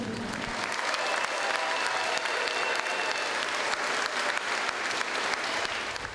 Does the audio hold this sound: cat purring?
no